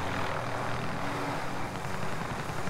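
Helicopter in a video game, a dense continuous rotor and engine roar that stays loud and steady throughout, with no voices over it.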